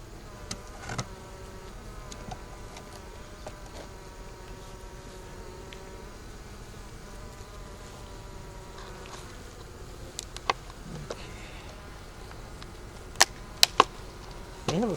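Honey bees hum from an open double-deep five-frame hive box, a steady low drone of many wings close by with a few sharper passing buzzes and faint clicks, no voices.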